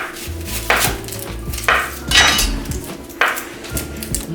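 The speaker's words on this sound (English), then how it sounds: "I'm gonna cut onions." Knife on a cutting board chopping onions at a Khmer barbecue, with several sharp, close thuds spaced about a second apart and bright clatter in between.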